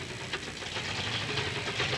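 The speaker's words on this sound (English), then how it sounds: "Sounds like a rod is knocking in the engine." Dodge race car engine with a knocking rod, idling in the pit area at the 1995 Indianapolis race, a steady mid-pitched running drone with faint irregular ticking throughout.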